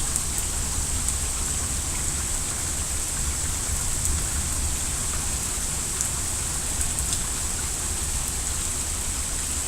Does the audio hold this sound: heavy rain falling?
yes